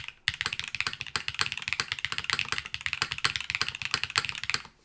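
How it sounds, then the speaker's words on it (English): Quick, continuous keystrokes on a Velora TKL top-mount mechanical keyboard with foam fitted inside, giving a close, even clatter of keys with no voice over it. "Very classic top mount sound."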